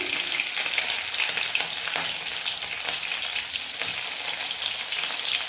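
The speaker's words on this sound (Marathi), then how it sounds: "आता आपलं तेल छान गरम झालेलं आहे। आता आपण त्यामध्ये टाकतोय मोहरी, जिरे, हिरवी मिरची" Mustard seeds, cumin and green chili crackle in hot oil, a loud, dense and steady sizzle that fills the whole stretch with no voices over it.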